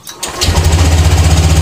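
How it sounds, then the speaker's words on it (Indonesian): A Honda Beat CBS ISS Deluxe motorcycle fitted with a remote alarm starts up from the remote, cranking briefly before settling into a loud, close, steady idle. "baru motor bisa hidup"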